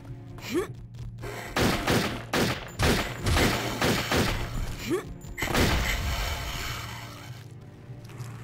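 Rapid bursts of gunfire from Turok 3 Remastered, several loud shots in quick succession with thuds and mechanical clunks between them, over a steady game background hum.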